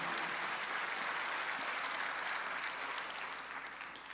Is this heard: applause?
yes